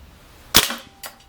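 A Cybergun Blackwater BW1911 R2 blowback BB pistol fires outdoors, one sharp, loud, close crack followed by a fainter metallic snap, with no talking.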